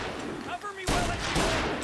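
Bursts of gunfire ring out during a firefight in Mafia: Definitive Edition. Sharp, loud shots crack in quick succession, following a brief voice-like sound just before.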